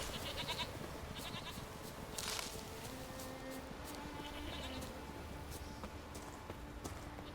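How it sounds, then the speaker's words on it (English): A herd of goats bleating in Witcher 3 on the isle of Skellige, with scattered faint bleats and soft hoof clops spread through a quiet, low outdoor game ambience. "Oh, look at that, there's a bunch of goats."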